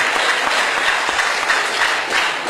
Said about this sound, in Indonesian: Tepuk tangan untuk pemerintah